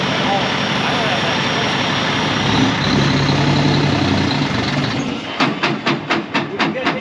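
A truck engine idling and running with a steady loud rumble, then a rapid series of rhythmic pulsing bursts near the end, with people talking over it.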